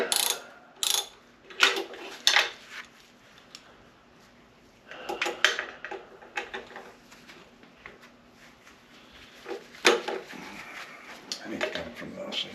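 Hand tools click and ratchet in short, sharp bursts while parts of a 1928 machine are screwed down during reassembly, close by and fairly quiet, with soft clattering and pauses between.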